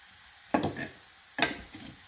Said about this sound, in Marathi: आणि तवा असा थोडा फिरवून घ्यायचा म्हणजे सगळ्या कापांना तेल पोचतं।